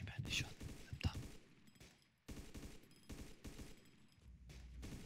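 Gunfire in the survival video game DayZ: a dense burst of rapid shots crackles early, then repeated loud blasts and noisy bursts follow, with someone speaking over them.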